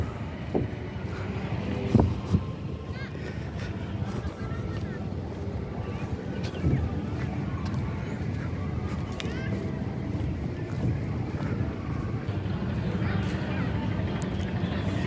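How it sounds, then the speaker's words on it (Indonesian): Passenger boat cruising along Ancol beach in Jakarta, a steady low engine drone and water wash with heavy wind buffeting throughout, continuous and fairly close. "ada perahu yang sedang beroperasi membawa penumpang berkeliling pantai Ancol"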